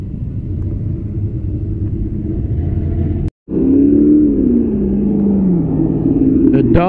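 Dodge Bomber engine at a street rod car show, a loud close rumble that briefly cuts out, then a steady throaty idle with a slight rise and fall in pitch.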